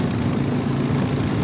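A Harley motorcycle engine running steadily on a dreary, wet morning ride, a close, loud, low rumble with no talk.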